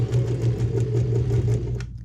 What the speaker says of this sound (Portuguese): chega perto e ajuda a máquina para não quebrar a agulha